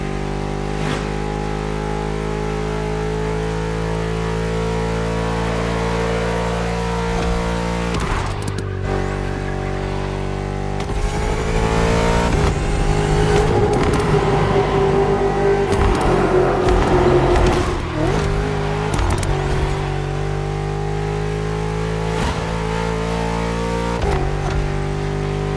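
A BMW car engine in The Crew Motorfest racing game drones loudly and steadily with nitrous boost, rising and falling in pitch through several gear shifts and revving surges across the race.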